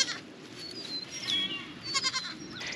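Goats on a homestead bleat near a wire fence by the buck pen, several short wavering calls overlapping at moderate distance with faint ambient noise, no speech.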